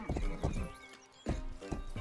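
Horse hooves clip-clopping in the video game Rustler, a few distinct hoof strikes in two groups separated by a brief lull, with a faint whinny.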